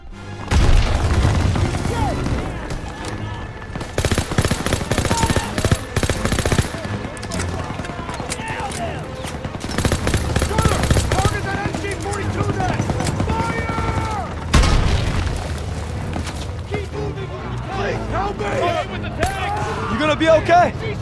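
Call of Duty WWII battle: heavy bursts of machine-gun fire and booming explosions come in repeated waves, loud and close, with soldiers shouting throughout.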